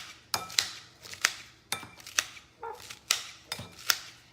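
A salad chopper blade striking lettuce in a bowl, sharp repeated chops at an uneven, roughly half-second rhythm, close and crisp with a faint clatter against the bowl and no talking.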